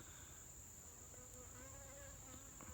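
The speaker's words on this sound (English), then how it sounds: "Oh, there's a bee." A bee buzzing faintly outdoors, a steady thin drone with no voices over it.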